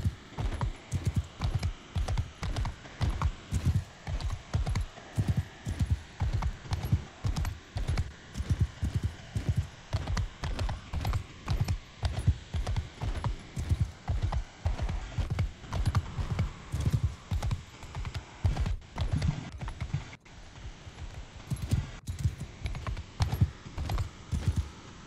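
Horse hooves clip-clop steadily in Mount & Blade II: Bannerlord multiplayer, a continuous galloping rhythm of close, fairly loud game hoofbeats with no talk over them.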